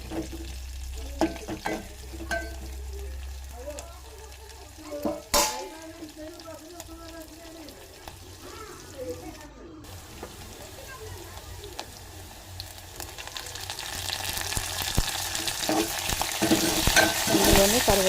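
Chopped onions fry in a pan for spinach dal, with scraping and clicking stirs early on and a soft crackling sizzle that grows louder and hissier over the final seconds.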